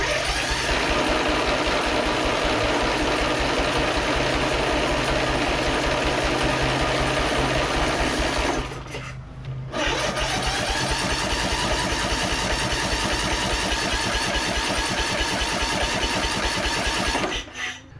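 Toro zero-turn mower engine with fuel poured into the carburetor, starting and running loud and steady close by, with a brief drop or stumble midway before picking back up, no talking.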